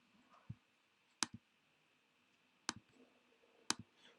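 Computer mouse clicks, faint and crisp, a handful of single and double taps spaced irregularly over quiet room tone.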